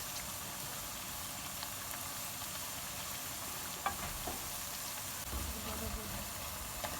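Mixed vegetable pakoras frying in hot oil make a steady, even sizzle with a soft hiss throughout, broken by a few faint clicks and taps.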